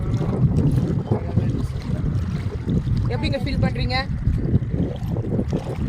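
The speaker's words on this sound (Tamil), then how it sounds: "நல்லா காற்று வருது, நல்லா காற்றடிக்குது." Strong wind buffets the microphone at a beach, a steady roaring rush throughout, with a person speaking over it.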